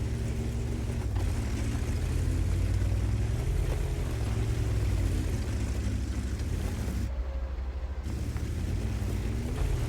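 A medium tank's engine rumbles steadily as the tank drives across a World of Tanks-style battle map, a loud, continuous low drone with a brief dip near the end and no talk.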